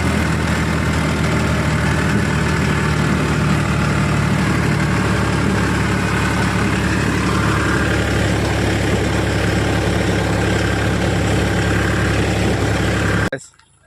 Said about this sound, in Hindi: वो रहा ट्रैक्टर